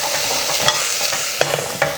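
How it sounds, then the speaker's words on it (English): Onions with scraped ginger stirred in a hot pan give a loud, steady sizzle, with several scraping stir strokes rising above it, close up and without voices. "I'll scrape that off, add it to my onions. Give it a stir around."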